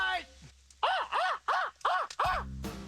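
A man imitates a crow with five loud, evenly spaced caws, each a short hoarse arching call, close to the listener, with a brief voiced sound before them.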